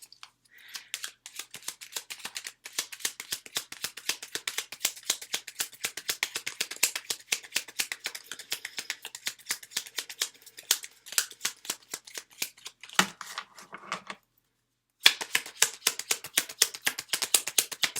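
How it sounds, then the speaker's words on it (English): Oracle cards are shuffled briskly by hand, a dense run of crisp, rapid riffling taps and flicks lasting most of the moment, close and moderately loud, with a brief pause near the end before the shuffling resumes. "can we pull some messages, please, from What He Didn't Say, Oracle deck by Laura Grace?"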